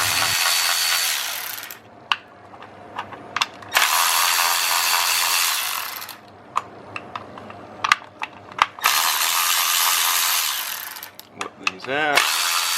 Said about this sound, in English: So I got my electric ratchet, got my 10 on there